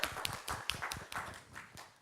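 Sparse applause from a lecture hall audience at a deep learning lecture, a short spell of scattered, uneven claps that fade quickly, with no talk over it.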